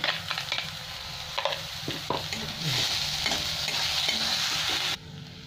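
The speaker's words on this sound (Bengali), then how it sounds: "পেঁয়াজটা লাল লাল করে খুব ভেজে নেব।" Two chopper-chopped onions sizzle and frying in oil until browned for a potato and pea curry, with steady bright sizzling and repeated stirring scrapes, ending abruptly after about five seconds.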